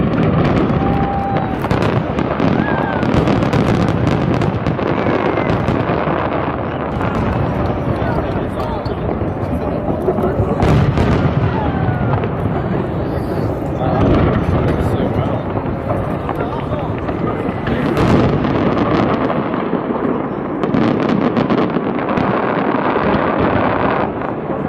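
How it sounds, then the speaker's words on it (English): Spectacular fireworks display watched from a large yacht in North Korea, a dense continuous barrage of bangs and crackles with wind buffeting the microphone and voices talking throughout. "We went on a large yacht from which we saw some spectacular fireworks."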